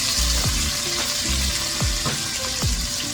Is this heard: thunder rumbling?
no